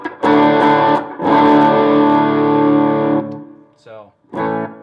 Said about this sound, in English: it goes into this tube screamer. It's an overdrive pedal.